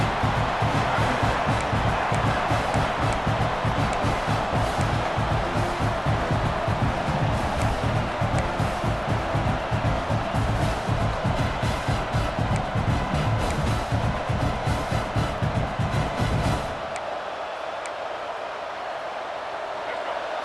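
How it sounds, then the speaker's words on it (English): A dense, loud roar of a large American football stadium crowd, steady and rumbling with rhythmic pounding as it urges on the defense, then it drops off abruptly near the end to a quieter murmur. "Listen to this crowd just shaking the girders of this place trying to help their defense."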